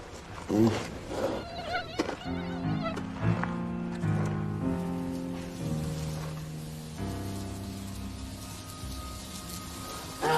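Mosquitoes and other insects buzzing in 28-degree summer heat: a close, steady drone of layered whining tones that wobble and shift in pitch for the full stretch, with no talking.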